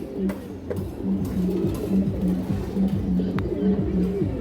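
Low, throaty cooing comes from a silver female pigeon in a repeating pulsing rhythm, close and steady, with faint background noise but no clear talk.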